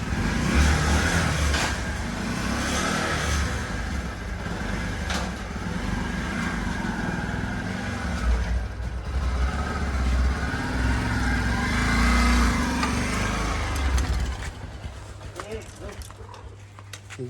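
A new motorcycle's engine runs at a low, steady idle beneath ongoing conversation, the rumble continuing for most of the stretch before easing off near the end.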